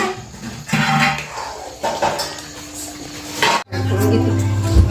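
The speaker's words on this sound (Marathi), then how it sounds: "आता थोडी भांडी पडलेली आहे ती भांडी वगैरे घसती" Dishes get washed in a home kitchen: steel pots and utensils clatter and clank close at hand, with short scraping knocks and a brief pause before the clatter resumes.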